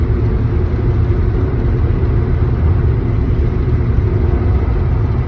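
Rush hour road traffic on a Dallas–Fort Worth highway heard from inside a moving car, a loud, steady low rumble and whir of engine and road noise continuing without break.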